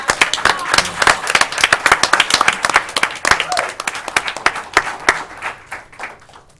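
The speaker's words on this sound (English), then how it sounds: "Let's give these students a round of applause." Scattered audience applause breaks out for student winners at a county school board meeting, with individual sharp claps standing out close and uneven, gradually thinning toward the end while a voice murmurs underneath.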